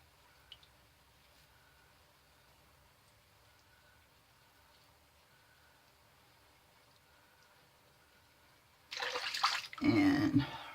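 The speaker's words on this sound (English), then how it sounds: "And rinse out our razor" A razor being rinsed under running water: a quiet room for most of the stretch, then a sudden loud rush of tap water splashing near the end.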